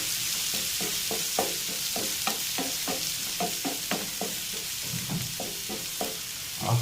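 Ginger, garlic and shallots hiss in hot oil for a chicken fry while a spoon scrapes the pan in a steady rhythm of about a dozen strokes.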